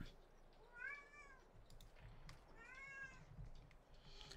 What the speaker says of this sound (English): More frantic meowing from Basil.